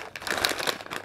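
Plastic packet of Chinese instant kimchi-flavoured noodles being torn open, a brief close crinkling rustle lasting about a second.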